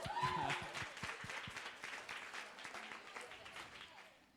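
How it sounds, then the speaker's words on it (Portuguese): Scattered clapping from a small audience at a church pastor's Q&A podcast: a brief voice at the start, then sparse, uneven claps that gradually thin out and fade. "Ninguém vai aplaudir, não?"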